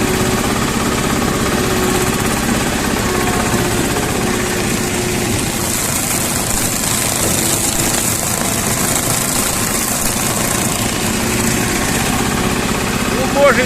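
A tractor-driven mulcher mowing potato haulm and weeds between the rows, its engine droning steadily and loudly with a rough, vibrating mechanical hum that runs unbroken throughout.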